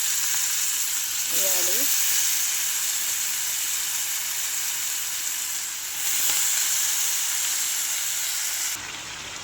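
Washed ridge gourd pieces sizzle loudly in a pan of frying onions for a ridge gourd curry, a steady close hiss that swells as the pieces go in, with brief speech over it.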